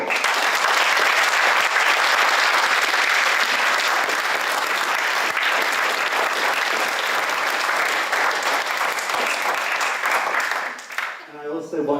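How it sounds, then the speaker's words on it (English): A conference audience at a roundtable panel applauds in a sustained, dense burst of clapping that holds steady for several seconds before tapering off, with faint voices at the end. "I think we could thank all of our panellists now by thanking them with a round of applause."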